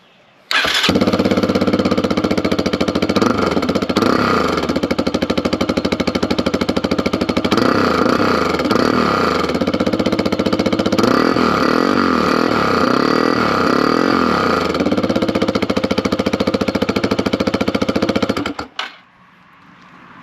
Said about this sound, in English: let's see what the bike sounds like without the, or baffle, spark rest, or whatever you want to call it